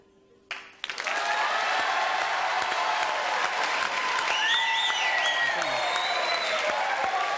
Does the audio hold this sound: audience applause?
yes